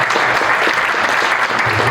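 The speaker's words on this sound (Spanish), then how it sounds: "Creo que esto merece un aplauso" An audience at a panel discussion on the second round of an election gives loud, dense applause. The clapping is steady and sustained and continues at the same level throughout.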